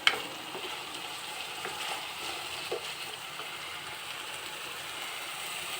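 Vegetable curry frying in a pan as it is stirred, with a steady soft sizzle and occasional scraping clinks from the spoon, close and fairly quiet.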